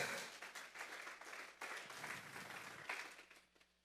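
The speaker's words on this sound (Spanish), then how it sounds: "Vamos a darle un fuerte aplauso al Señor esta mañana." Church congregation applauding during a Spanish-language sermon, a steady wash of clapping that surges and eases over a few seconds, fairly quiet and distant.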